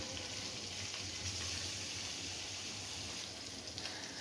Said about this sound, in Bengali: মাছ ভাজতে শুরু করে দিয়েছি তেল দিয়ে সর্ষের তেলেই আমি রান্নাটা করছি